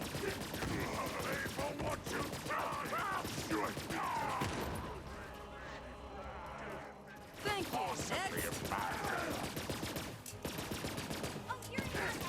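Video game gunfire crackles in rapid bursts through most of the stretch, with a short lull in the middle before the shooting resumes, and someone talks over it.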